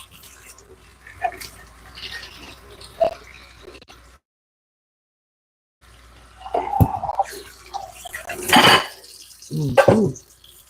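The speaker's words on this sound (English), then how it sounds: "Wash off my hand." Hands are rinsed under a running kitchen tap, with water splashing and clinking against the sink in bursts, broken by a silent gap, close by and moderately loud.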